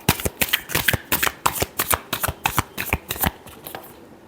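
Tarot cards shuffled by hand in a quick run of crisp riffling bursts, about a dozen sharp flutters in steady rhythm, close and clear, easing off at the end.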